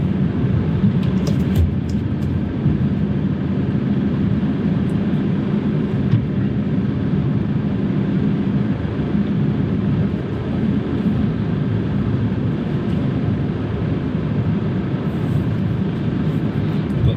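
A car reversing into a parking space gives a steady, low engine rumble heard from inside the vehicle, constant throughout with no talk.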